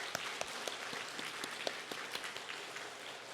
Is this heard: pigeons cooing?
no